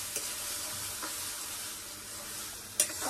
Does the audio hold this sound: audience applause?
no